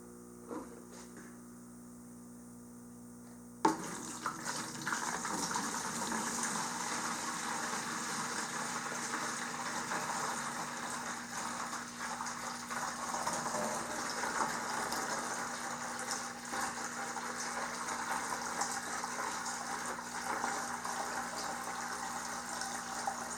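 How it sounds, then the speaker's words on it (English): Water is poured steadily into a deep water culture (DWC) hydroponic bucket, a gallon or more, starting with a sudden splash and then a continuous gushing fill over a low electrical hum. "I've poured in a little more than a gallon of water"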